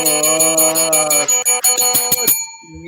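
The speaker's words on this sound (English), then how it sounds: "we are taking the bell away from Pat" A bell rung on a podcast, several quick bright rings in a row that build up, then ring out and fade into near silence.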